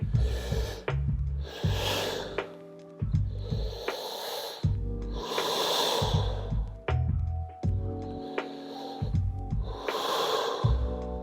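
Deep, slow breaths during a stretching session: about six long, loud, close inhale and exhale cycles, each a breathy rush through nose or mouth, with short quiet gaps between.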